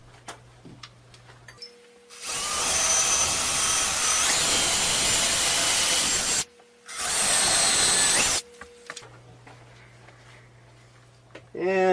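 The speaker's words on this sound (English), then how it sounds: "using a 7/32 bit, I'll drill the pilot holes." A power drill with a 7/32 bit drilling pilot holes whirs loudly in two sustained bursts, about four and two seconds long, with a short pause between and quiet room noise around them.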